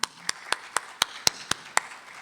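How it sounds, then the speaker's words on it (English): Sharp, close hand claps ring out at a university open house, about nine evenly spaced strikes in a quick, steady rhythm with little else around them. "So we want to give them a round of applause"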